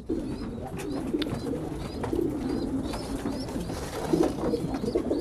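Pigeons kept for sale, squabs and young homing birds, coo repeatedly in soft low rolling calls, several birds overlapping in a steady close chorus with faint higher chirps.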